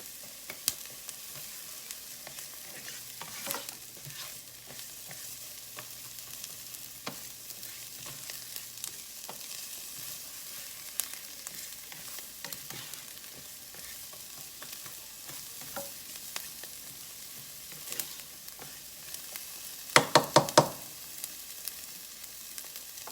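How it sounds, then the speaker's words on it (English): Vegetables sautéing in a pan for a noodle spaghetti dish, a soft continuous sizzle with occasional utensil scrapes, then a brief cluster of sharp clinks near the end. "I'm just going to saute these until they're translucent."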